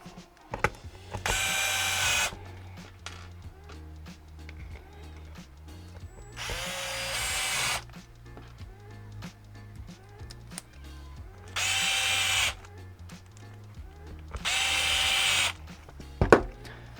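A cordless power drill drives four screws into the pivot support of a lifter kit during assembly, giving four separate loud whirring bursts of about a second each, with quiet handling clicks between them.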